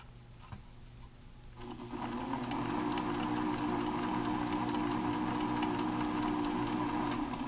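A sewing machine backstitches a seam on a breathable fabric face mask, starting with faint handling noises before the motor kicks in to a steady, close whirring stitch rhythm that continues to the end.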